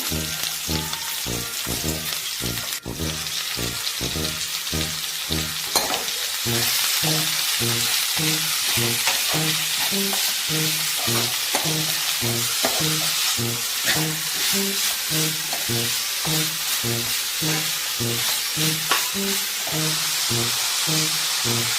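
Sliced onions fry steadily in a hot pan with a continuous sizzle, while a spoon or spatula stirs and scrapes in a regular rhythm, close and fairly loud throughout, with a low repeating hum underneath.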